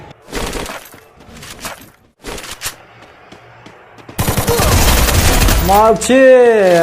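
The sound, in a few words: gunfire from guns in a shooter video game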